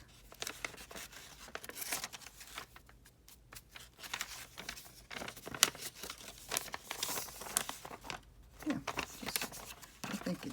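Paper envelopes crumpled and creased by hand to give them an aged, vintage look, a steady run of close crinkling and crackling with brief pauses.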